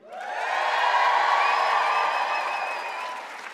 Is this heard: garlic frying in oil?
no